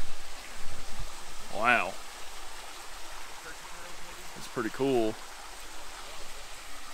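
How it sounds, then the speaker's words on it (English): Small waterfalls tumble along a creek in a wooded Ozark forest, a steady broadband rush of falling water running throughout, with a voice briefly speaking over it twice. "Some waterfalls for you."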